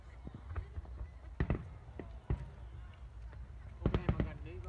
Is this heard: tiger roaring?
no